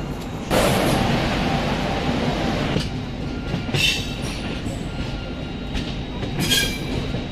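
A Duranto Express train from Pune to Howrah runs on rails, heard from inside as a steady loud rumble with periodic clattering bursts from the wheels.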